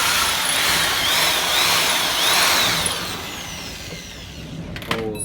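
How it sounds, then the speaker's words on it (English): A power drill bores out spot welds in the engine bay of a BMW E36 drift build, with a loud, close, whining drill that rises and falls for about three seconds, then winds down, followed by a few metallic clicks. "We just gotta drill these"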